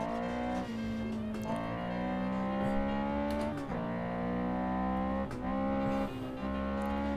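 A car engine in a racing video game revving high and dropping pitch through several downshifts, a loud steady drone with abrupt step changes in tone, no talking.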